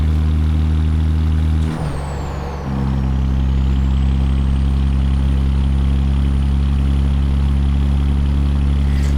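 Heavy diesel drone of a Peterbilt 359 truck in American Truck Simulator, lugging uphill at about 1400 RPM, steady and loud throughout with a brief dip and shift in tone partway, no talk.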